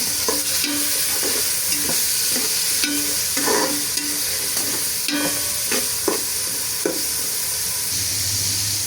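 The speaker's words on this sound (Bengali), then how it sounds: "পেঁয়াজটা ভালো করে ভেজে নেব।" Chopped onions and green chillies fry in a pan with a steady sizzle, while a spoon scrapes and stirs in regular strokes close to the pan, with no talking.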